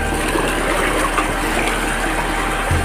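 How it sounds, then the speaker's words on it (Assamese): River water flows down from upstream in a steady, loud, broadband rush that stays even throughout, close by and with no voices over it. "ওপৰৰ পৰা নদী পানী বৈ আহিছে"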